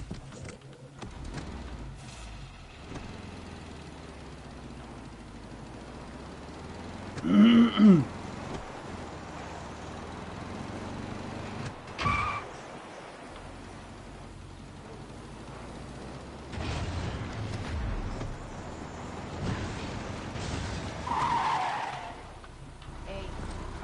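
A car driven in the video game Far Cry 6, with a steady engine rumble, a sharp tire squeal partway through and later a second skid, while other sounds and brief voices pass underneath.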